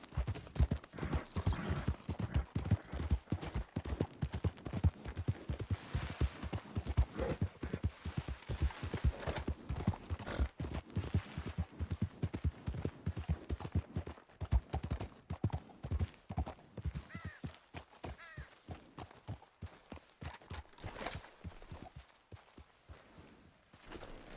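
A horse gallops in Red Dead Redemption II, its hooves pounding in a fast, steady clip-clop rhythm close by that slows and thins toward the end.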